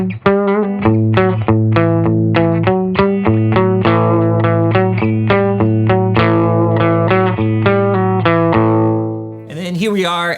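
Distorted electric guitar riff through a 25-watt single-ended Class A amplifier, with steady picked chords and sustained notes, loud and close, ending with a brief burst of noise.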